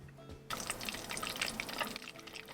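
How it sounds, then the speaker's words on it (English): Rendered beef tallow simmering in a pot on a stovetop, a sudden burst of small crackling pops and bubbling that starts half a second in and continues quietly and evenly after. "I'm going to put it onto the stove top and melt the tallow down and bring it to a simmer"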